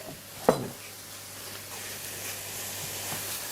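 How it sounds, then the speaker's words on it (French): Browning meat and vegetables for lasagne are stirred in a pan, opening with a sharp scrape or clank, then a steady faint sizzle and hiss underneath. "on mélange."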